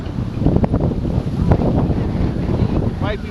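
Strong wind of about 25 mph buffeting the microphone on a Sarasota, Florida beach ride by bike, a steady loud rumbling roar throughout, with a brief voice near the end.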